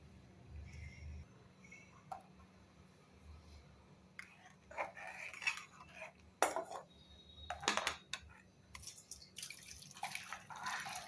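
Rasam being poured from a cooking pot into a serving vessel, with scattered metal clinks, drips and liquid splashes, some sharp and close, against a quiet background.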